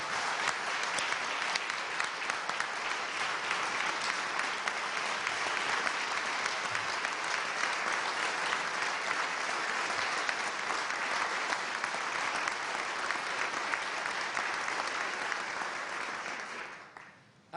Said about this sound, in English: I hope you'll join me in a round of applause for our state workforce